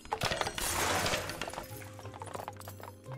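Glass shatters in the Octodad: Dadliest Catch video game, a loud burst of breaking and clattering debris early on that trails off into scattered tinkling over a low steady game hum.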